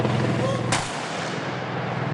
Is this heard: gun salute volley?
yes